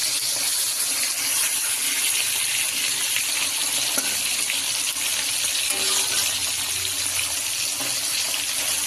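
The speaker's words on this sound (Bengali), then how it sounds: "এই যে বাটা মাছ ভাজা বসিয়েছি" Bata fish frying in a pan for a curry, a steady, dense sizzle and hiss of hot oil that holds at an even level throughout, with no talking.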